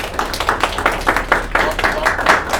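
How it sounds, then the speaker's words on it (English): Steady applause from a lecture audience, many hands clapping in a continuous dense patter, fairly close and moderately loud. "All right, round of applause."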